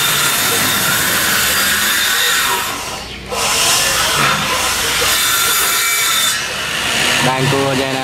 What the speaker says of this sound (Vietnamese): Đang cưa nha anh em.